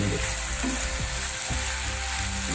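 Prawns frying with basil leaves in a pan for a pepper prawn dish, a steady close sizzle with stirring scrapes throughout, no talking.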